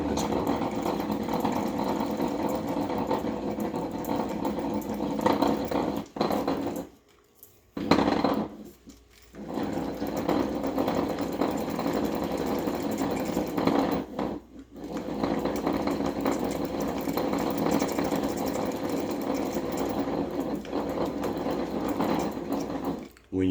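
Open-face fishing reel being cranked to spool line onto it, a steady whirring, clicking mechanical drone that runs continuously with a few brief pauses, close and moderately loud.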